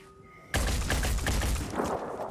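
Shotgun fire in the video game Phoenix Point starts abruptly as a loud, dense burst of blasts and crackling impacts that rolls on for about two seconds before easing off.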